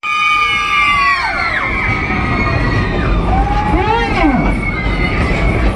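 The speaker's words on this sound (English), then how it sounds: "Here we go, cars one and two, scream." Passengers on the Frisco Silver Dollar Line excursion train at Silver Dollar City scream together in a contest. The crowd shrieks are loud and sustained, with high wavering squeals rising and falling over rumbling train noise.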